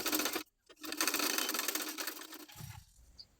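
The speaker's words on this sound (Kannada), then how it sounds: "ಈಗ ಬ್ಯಾಕ್ ಟಕ್ಸ್ಗಳನ್ನ ಸ್ಟಿಚ್ ಮಾಡ್ಕೊಳ್ತಾ ಇದ್ದೀನಿ." A sewing machine stitches back tucks on a garment, running in a steady whirring burst with a short pause before a longer run, then tapering off with a soft clunk at the end.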